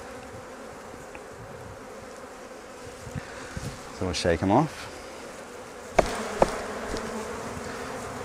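Honey bees buzz steadily around an open Flow Hive during a vertical hive split, a constant close hum with brief handling knocks and a short spoken remark partway through.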